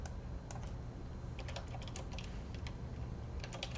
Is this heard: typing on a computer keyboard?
yes